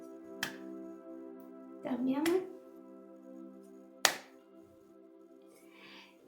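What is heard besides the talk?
hands clapping during a group exercise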